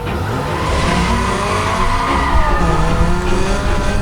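A Lamborghini Gallardo's engine roars steadily while tires squeal and skid throughout in the video game Need for Speed: Most Wanted, loud and continuous, with no talking.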